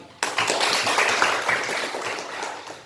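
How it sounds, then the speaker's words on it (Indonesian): Clapping from a classroom of students applauding a classmate, a dense patter of hand claps that starts abruptly and carries on steadily at moderate loudness with no speech over it. "Tepuk tangan dulu buat teman."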